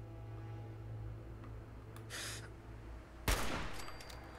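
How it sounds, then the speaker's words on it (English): Gunfire in the Fallout 4 video game: a short muffled burst is followed by a single loud, sharp shot with a trailing echo over a low, quiet background hum. "I'll take a couple shots off on these guys."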